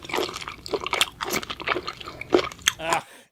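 Squid being chewed up close for an ASMR eating session: wet, squishy bites and crunchy mastication in irregular bursts, loud and intimate, with no talking.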